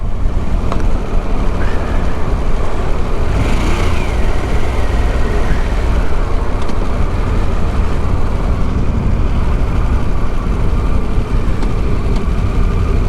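A 2023 Harley-Davidson Pan America motorcycle riding in first gear, its engine a loud, constant rumble blended with wind and road noise from start to finish.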